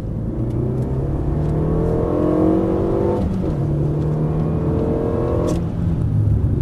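A car engine accelerates hard on a racing circuit at Dreux, a loud, steady rising whine climbing through the gears, with a brief dip around a shift before the revs build again, no voices over it.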